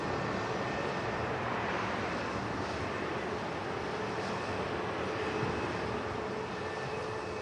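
A Virgin airliner powers down the runway for takeoff at Manchester Airport, a broad, steady engine roar that stays constant and dominant throughout with no voices.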